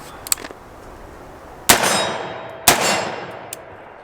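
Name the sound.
308 AR pistol gunshots hitting steel target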